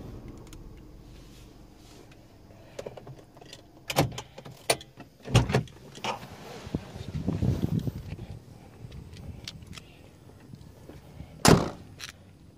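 A 2013 Kia Picanto SE automatic in Indonesia is switched off and its door opened, giving several sharp clunks and clicks spread over about twelve seconds, with a louder thud near the end against a quiet cabin background.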